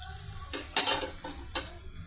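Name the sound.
garlic pieces and green chillies frying in oil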